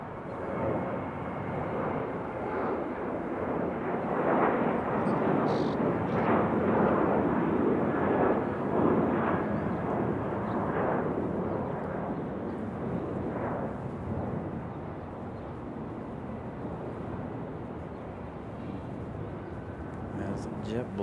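A JetBlue Airbus A220 jet taking off at Raleigh-Durham airport, a broad low roar that swells in the middle and slowly fades, while a voice talks over it.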